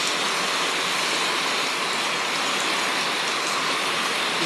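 Heavy storm rain pours down in a steady, dense hiss, loud and unbroken, with no voices over it.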